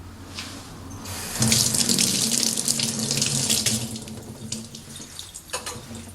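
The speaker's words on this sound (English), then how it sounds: "So now I'm going to rinse these seeds out of the middle." Pepper seeds are rinsed out under a running kitchen tap, with water splashing steadily into a sink, loud and close, swelling as the stream hits the pepper and tapering at the end.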